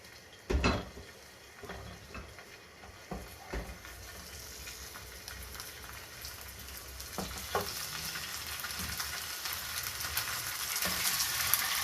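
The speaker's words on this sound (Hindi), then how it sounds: "ये चिकन को मैंने फ्राई होने के लिए रख दिया" Pieces of marinated chicken sizzling steadily in hot oil for a fried chicken platter, with a few sharp clatters of a utensil near the start and the hiss building gradually louder, no voices.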